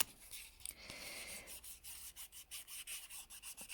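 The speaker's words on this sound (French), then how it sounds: "polir, lustrer votre ongle pour éviter de mettre du vernis tout en ayant un effet brillant." Fingernail buffed with a multi-sided polishing block, from coarse to smooth faces, during a manicure: close, soft rhythmic rubbing strokes, steady and repeated, with no talking.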